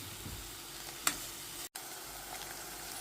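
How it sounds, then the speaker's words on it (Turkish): Steady sizzling of onions frying in hot oil, a constant crackling hiss with one brief break. "Soğanlarım bir miktar kavruldu."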